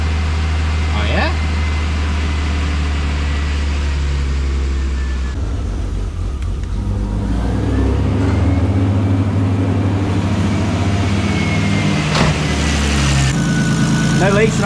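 A Nissan Stagea with an RB25DET engine idles after fuel system upgrades (new fuel rail, injectors and pressure regulator), a steady low drone that rises slightly midway, with people talking nearby over it.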